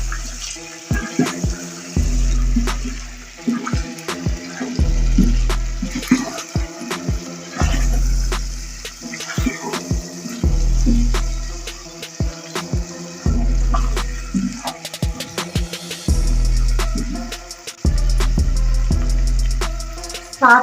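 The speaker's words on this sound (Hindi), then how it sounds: "अब इसे हम अच्छे से भून देंगे चिकन को" Chicken frying in a pan with garlic and ginger, a watery sizzle that swells and fades in repeated cycles with periodic scraping and clattering strokes, close by and without talking.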